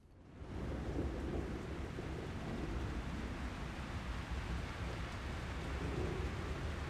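Steady rain in the video game Omikron: The Nomad Soul, a dense continuous hiss starting after a brief quiet moment and holding at an even level, with no talk.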